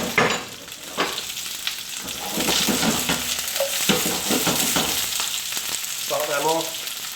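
Onions and green peppers stir-frying in hot oil in a pan, a loud close crackling sizzle that runs throughout, with stirring scrapes and a brief squeaky scrape near the end.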